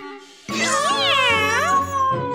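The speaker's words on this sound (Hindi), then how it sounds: "ये तो बिल्ली है। शायद इसे भूख लगी है।" A cat gives one long, wavering, close meow that rises and falls in pitch, loud and clear over a quiet room.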